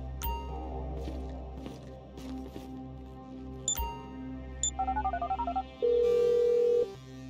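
In the GTA 5 video game, a phone rings as a run of short, rapid electronic beeps followed by a steady, sustained tone, heard over a low background hum.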